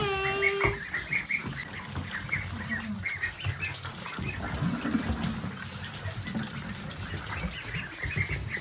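Ducks kept at home near a water bowl give scattered quacks and fowl calls over a steady rustling farmyard background, moderately close throughout.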